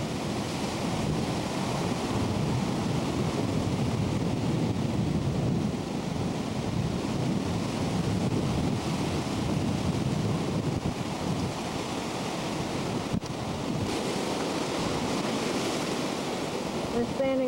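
Sea water surges against the rocks below a pier at Carolina Beach, a continuous loud wash of surf mixed with heavy wind rumble buffeting the microphone, with one sharp knock partway through.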